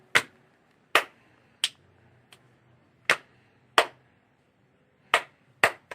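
Sharp hand claps in a rhythmic pattern, evenly spaced single claps with a few quick pairs, crisp and close in a quiet room with no talking.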